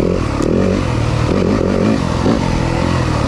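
A 2023 Yamaha 250FX dirt bike engine runs hard at wide-open throttle on a scramble trail, a loud, steady, close-up roar with a continuous rasping drone and rattling clatter throughout.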